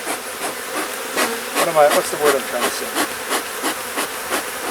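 Honey bees buzzing around an opened hive: a close, busy drone of many insects with individual bees zipping past, mixed with wooden knocks and tapping of hive frames, while someone speaks briefly.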